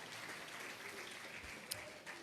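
A Baptist church congregation applauds together, a steady wash of clapping filling the room at moderate volume for the whole stretch, with no voices standing out above it.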